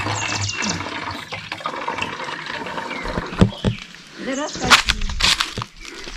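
Water rushing and splashing steadily, with a few sharp knocks and clatters; a voice can be heard under the flow.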